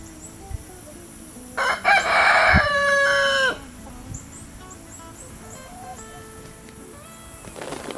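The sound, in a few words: chickens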